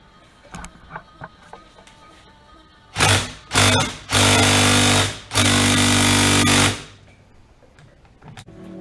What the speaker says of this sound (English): 6mm Allen and a battery-powered impact. Let's see if we'll get it to pop.